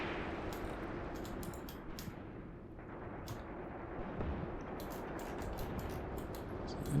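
Gunfire aimed at a tank in the wartime tactics game Graviteam Tactics, with repeated sharp shots and bursts rattling over a rumbling battlefield backdrop, moderately distant and continuous.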